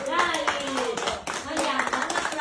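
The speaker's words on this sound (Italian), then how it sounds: "Battiamo le mani." An audience claps together, a dense steady patter of many hands at close range, with a voice speaking over the applause throughout.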